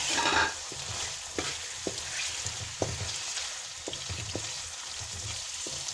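Chicken gizzards and liver frying in a masala in a pan, a steady sizzle with stirring scrapes and clinks throughout, close and moderately loud with no talking.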